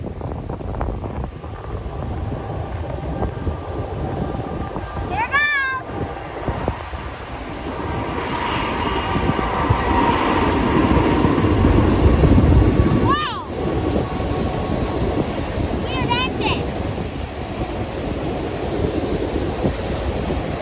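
A train rolls past along a breezy greenway, a steady low rumble swelling toward the middle under constant wind buffeting on the microphone, with a few high whistle-like tones and a brief creak rising over the noise.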